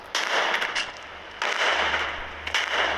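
A rocket launcher fires in a video game in loud, sharp blasts, three close bursts each trailing off into a noisy rumble, with no talking over them.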